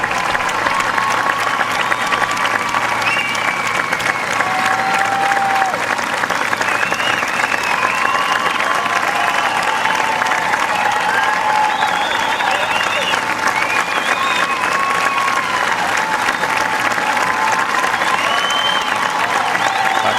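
Loud, sustained applause from a large crowd at a U.S. Women's Open golf playoff, with scattered cheers and whistles mixed into the clapping throughout.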